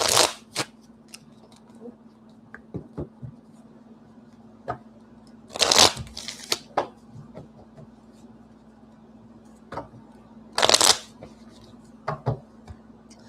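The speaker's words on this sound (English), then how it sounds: "One more shuffle." A deck of reading cards being shuffled, with several bursts of loud riffling near 0, 6 and 11 seconds, separated by scattered taps and handling clicks over a low hum.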